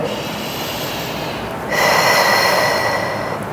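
Close, audible breathing during an abdominal workout: a long drawn breath followed by a stronger, rushing exhale, heard alone with no talking.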